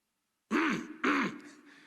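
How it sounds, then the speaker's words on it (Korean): A man clears his throat twice in quick succession, loud and close, in a deliberate showy cough during a church sermon. "헛기침하고."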